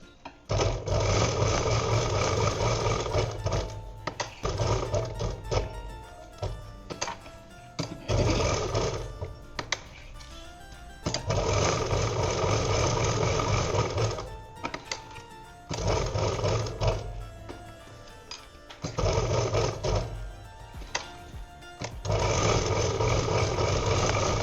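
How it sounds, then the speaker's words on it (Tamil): A sewing machine stitches cloth for a shoulder bag in long, steady runs of loud, fast mechanical whirring, broken by short pauses where the needle stops before starting up again. "இங்கேருந்து இங்கே வரைக்கும் தையல் போட்டு எடுத்துக்கலாம் ஒரு தடவை."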